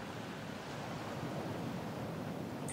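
Ocean waves in the video game Little Nightmares 2 form a steady, soft, broadband wash of surf with no distinct breaks, faint and continuous throughout.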